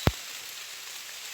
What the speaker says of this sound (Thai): คือว่าฝนตก